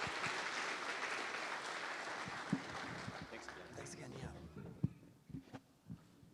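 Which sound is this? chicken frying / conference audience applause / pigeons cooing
conference audience applause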